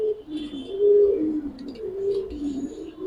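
Fighter pigeons cooing inside a loft, a low rolling coo repeated over a few seconds, close and clear with faint background noise.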